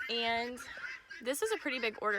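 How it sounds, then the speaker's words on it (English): Guinea fowl, chickens and roosters on a homestead call out in the background, with honking, cackling bursts under someone speaking close to the microphone. "you can probably hear the guineas and the chickens and the roosters in the background."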